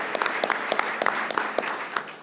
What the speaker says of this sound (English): if we can just a small round of applause to the team